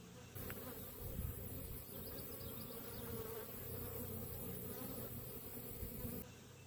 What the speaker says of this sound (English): Okay, so I've got approximately 300 bees inside of here.